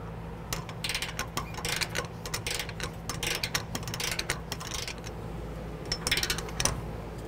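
Torque wrench tightening trailer hitch bolts on a 2017 Dodge Ram 1500, giving a run of close mechanical ratcheting clicks in irregular bursts over a steady low background hum.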